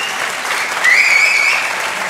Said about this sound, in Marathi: जाऊ द्या टाळ्या पाहुण्यासाठी